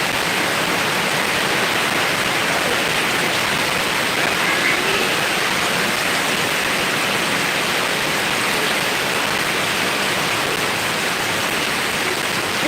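Steady heavy rain pouring without pause, a dense, even hiss that fills the whole stretch with no voices.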